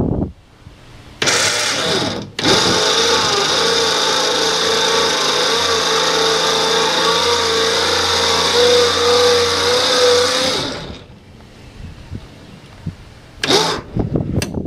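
A small electric winch winds a trailer ramp door cable onto its spool with a loud, steady whining motor drone lasting about eight seconds, between short bursts and clicks at the start and end.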